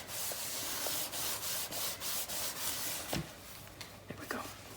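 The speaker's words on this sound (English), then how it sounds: "close it and actually burnish it from this side" Folded paper in a handmade mini album is burnished with firm back-and-forth strokes, a close, rhythmic rubbing repeated about eight times, followed by a few soft taps and handling sounds.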